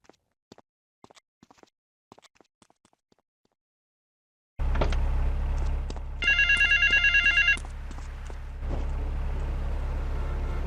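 Payphone ringing in GTA 3, a quick electronic trill burst heard over a steady low drone of city traffic after a stretch of faint ticking.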